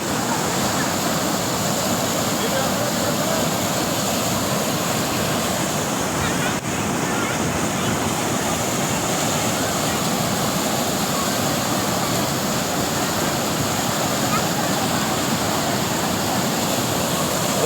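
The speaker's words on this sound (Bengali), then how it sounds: "দেখেন পানির স্রোত কীরকম" Strong river current rushing past, a loud, continuous close roar of churning water with wind buffeting the microphone throughout.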